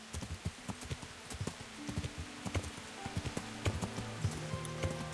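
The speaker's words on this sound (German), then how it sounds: "wir reiten noch ein Stück geradeaus." Horse hooves clip-clop in a steady rhythmic gait while riding in the video game Kingdom Come: Deliverance, moderately close over soft ambient game sound and faint tonal music, no talking.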